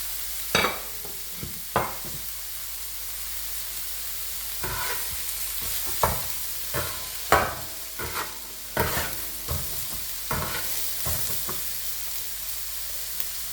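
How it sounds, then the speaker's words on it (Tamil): Green chillies and curry leaves fry for mutton kothu with a constant crackling sizzle, punctuated by repeated sharp scrapes and taps of a spatula against the pan throughout. "பச்சை மிளகாயையும் கருவேப்பிலையும் சேர்க்கிறேன்"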